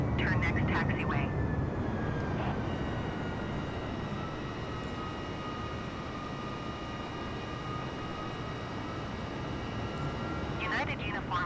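Jet airliner engines roar steadily through the takeoff run, heard from inside the cabin, with a faint rising whine and brief radio voices at the start and end.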